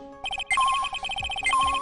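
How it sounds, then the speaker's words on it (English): In the Ace Attorney video game, a metal detector signal beeps in a rapid, regular electronic pattern with brief higher chirps mixed in, loud and steady without voices. "That's the sound of the metal detector signal bouncing off something metallic."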